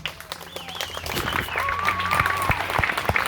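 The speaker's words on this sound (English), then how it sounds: "How about we give these guys a big round of applause?" A crowd at a war reenactment applauds the reenactors, steady clapping from many hands rising slightly over a few seconds, with whistles and scattered voices carrying over it.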